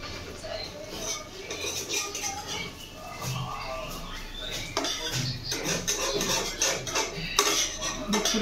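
Egg omelette cooking in a pan during a home lunch, with a steady sizzle and scattered metallic clinks of utensils against cookware close by.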